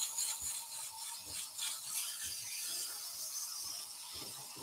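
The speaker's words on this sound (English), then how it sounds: "The timber sands fairly quickly. It's the resin that takes the time." Sanding a bowl of timber and epoxy resin with embedded twigs, a steady hissing rub with rhythmic back-and-forth strokes, close and continuous with no talk.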